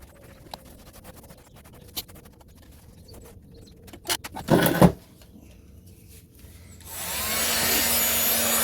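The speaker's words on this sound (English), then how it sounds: "And then grab a blower, just dry it off." An air blower dries a freshly painted Honda Superdream motorcycle fuel tank, starting after scattered light taps and scrapes as a loud, steady rushing hiss that runs to the end.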